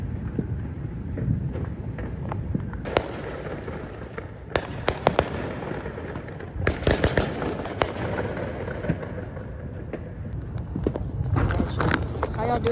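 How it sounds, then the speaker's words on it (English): Fireworks go off during a holiday celebration outdoors, a distant crackling barrage of pops and sharp bangs in irregular bursts over wind noise and background rumble, with occasional voices nearby. "You can still see the fireworks."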